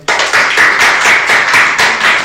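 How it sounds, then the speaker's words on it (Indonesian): An indoor audience at a student talk event claps together, a dense burst of applause starting abruptly and holding steady for a couple of seconds, close and loud. "tepuk tangan dulu dong"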